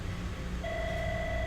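A telephone rings in a quiet lecture hall during a talk on supersonic flight, sounding as a steady electronic tone that starts partway through and holds at moderate level over low room noise.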